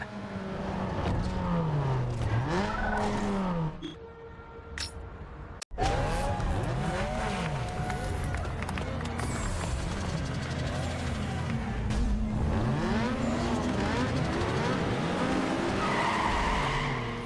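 A Toyota Corolla in a circuit race in NFS Underground 2, with repeated loud tire squeals and skids over a steady engine roar through cornering, a brief drop to near quiet midway, then more screeching slides.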